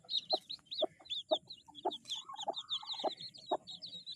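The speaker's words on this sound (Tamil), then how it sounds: "எத்தனை பேர் கோழி குஞ்சு பொரிச்சிருக்குது பார்த்துருக்கீங்கன்னு தெரியல" A hen clucking with repeated low pulses beside a dense stream of high, rapid peeping from eight newly hatched chicks, close and continuous, with no talk.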